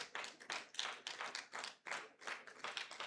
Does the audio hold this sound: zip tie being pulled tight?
no